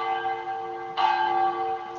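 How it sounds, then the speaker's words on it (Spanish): Church bells ring early in the morning in a colonial-era town, two sustained metallic tolls with long humming overtones, the second struck about a second after the first. "Muy tempranito sonaban las campanas."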